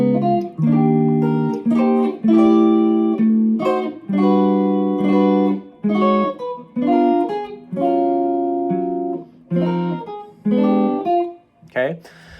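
Guitar chords from the opening measures of a song ring out one after another in a steady strummed passage, clear and close, ending with a short sharp scrape.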